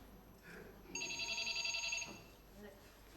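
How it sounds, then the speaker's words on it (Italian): A telephone rings once in a burst of bright, steady electronic tones inside a home during a Neapolitan-language stage play, fairly clear over a quiet room with faint voices nearby. "Che è il telefono?"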